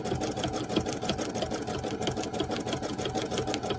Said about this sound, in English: we're doing it on a sewing machine, so it's a lot easier and faster